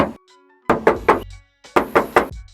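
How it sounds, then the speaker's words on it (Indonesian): Knuckles knock on the thin metal side panel of a freezer box truck body, two quick sets of three close, hollow raps separated by a short pause. "Kita coba tes ketok ya."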